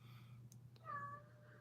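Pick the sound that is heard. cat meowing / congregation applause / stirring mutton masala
cat meowing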